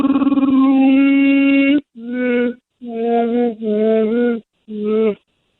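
A voice imitates a Wookiee or Sasquatch call: one long sustained howling roar, then four shorter guttural bursts separated by brief pauses, loud and close.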